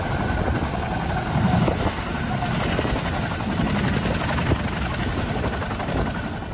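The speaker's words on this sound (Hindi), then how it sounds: "सेना के हेलीकॉप्टरों को इस काम में लगाया गया है।" An army helicopter on a rescue flight near a cloudburst disaster zone roars steadily with a dense rotor chop and heavy engine drone, loud and continuous throughout with no speech.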